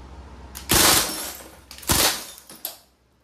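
Crosman MPW Bushmaster CO2 airgun firing steel BBs on full auto, two short rapid bursts of sharp cracking shots close by, followed by a single quieter pop.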